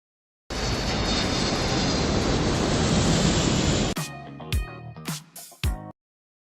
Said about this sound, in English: Plane taxi dangerously close to a highway at night before suddenly taking off as cars pass below.